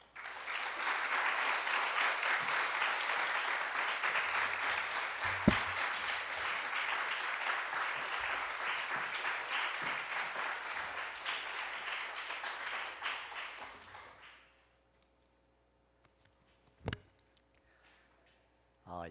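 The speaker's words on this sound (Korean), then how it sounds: "우리 목사님 나오실 때 우리 유광침례교회 창립 이후에 가장 큰 박수로 우리 목사님 모시도록 하겠습니다" A church congregation at a Korean Baptist Sunday service claps loudly and continuously for the pastor for about fourteen seconds, the dense applause fading out, followed by near silence with a single faint knock.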